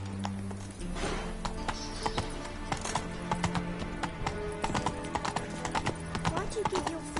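Horse hooves clip-clop at a steady gallop in The Witcher 3, a rapid, fairly close rhythmic patter running through the whole stretch beneath game dialogue and ambient sound.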